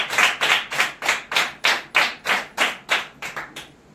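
Rhythmic group clapping at a Bible study gathering, about eleven evenly spaced claps in unison, sharp and close, tapering slightly toward the end with no voices.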